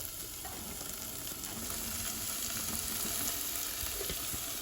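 Ivy gourd (tendli) pieces frying in a pan, giving a quiet, steady, close sizzle with faint stirring, and no talking.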